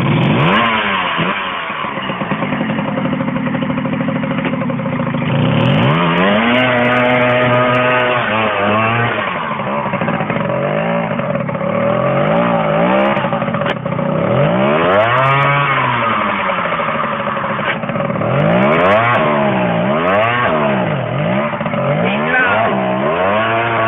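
A Jawa cross motorcycle engine rides and revs loudly and close, its pitch climbing and falling again and again as the rider shifts through the throttle, heard alone with no talk.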